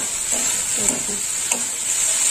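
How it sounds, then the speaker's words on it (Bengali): Elephant foot yam curry stir-fried with yogurt in oil, a steady loud sizzle with soft spatula stirring sounds over it. "বেশ কিছুক্ষণ নাড়াচাড়া করতে হবে।"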